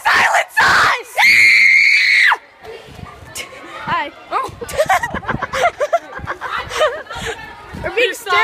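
A loud, sustained scream from a person in a yelling contest, followed by excited voices, chatter and some laughter.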